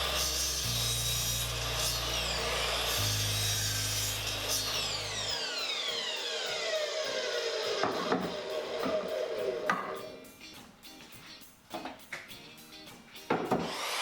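Lumber boards being cut to length for a workbench: a low droning hum gives way to loud rasping, scraping cuts with sweeping whines and intermittent knocks, no one speaking.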